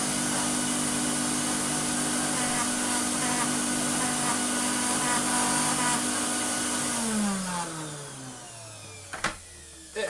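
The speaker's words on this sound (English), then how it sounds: "If I chuck it on low, and in fact, we've got this thing in, put it on, if I turn the pump on" Vax Rapide Plus carpet cleaner running its pump on low, a loud steady motor whine with a sustained hum that winds down in pitch near the end and fades, followed by a couple of clicks.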